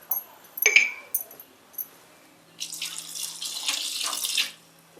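Water poured from a tap into a pot while cooking dal in a Mangalorean home kitchen, a steady hiss in the second half after a few brief clinks and splashes earlier.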